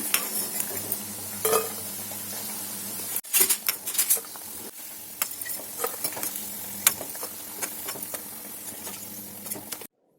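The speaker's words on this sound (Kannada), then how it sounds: "ಎರಡು ಕಡೆ ಫ್ರೈ ಮಾಡಿ ಒಂದು ಪ್ಲೇಟ್ಗೆ ತೆಕ್ಕೊಳ್ಳೋಣ." Paneer pieces deep frying in a pan and being turned to cook both sides, giving a steady sizzle broken by clinks and scrapes of a utensil against the pan, no talking.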